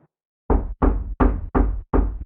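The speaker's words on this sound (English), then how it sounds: "He walked over to the door and knocked." Five firm, evenly spaced knocks on a door, loud and close, with brief silence before them.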